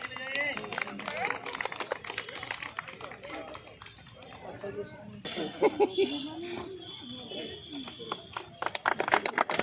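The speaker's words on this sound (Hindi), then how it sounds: "ताली बजाते रहिए, ताली बजाइए।" An audience claps through a school cultural program held for World Disability Day, with scattered bursts of applause and a rhythmic patter, mixed with voices and a busy crowd in the background.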